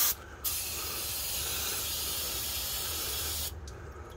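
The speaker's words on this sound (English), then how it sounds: "Brake parts cleaner to clean up the oil area." An aerosol can of brake parts cleaner sprays onto the oil drain area of a Ford F-150 during an oil change: one continuous, close, loud hiss lasting about three seconds, with no talking.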